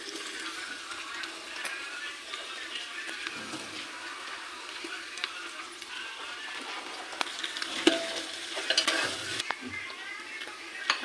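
Ginger garlic paste sizzles with onions in a pan, a continuous frying hiss broken by scraping stirs that grow busier toward the end, close up and without speech.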